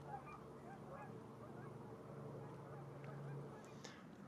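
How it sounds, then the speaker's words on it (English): Geese honk repeatedly in flight overhead at a moderate distance, their calls carrying over a steady low outdoor rumble. "geese up here flying, honking away."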